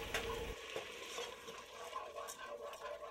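Spoon stirring risotto in a pan, a soft, close sizzle with gentle scraping and faint clinks repeating for a few seconds.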